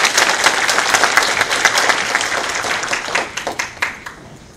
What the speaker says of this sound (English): another round of big applause for Professor Morena for her wonderful and insightful presentation